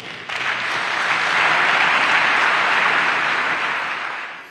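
Sustained applause from a large audience at an official speech event in Pointe-Noire, a dense steady wash of clapping that swells and holds loud throughout before tapering slightly at the end, with no voices over it.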